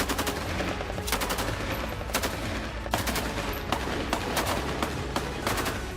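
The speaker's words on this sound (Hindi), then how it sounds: "इजरायली सेना पर ताबड़तोड़ गोलियों की बौछार कर रहे हैं।" Battle in Gaza, with Hamas fighters shooting at Israeli forces. Repeated sharp cracks and short bursts of gunfire sound over a constant rough, noisy background, at a moderate distance.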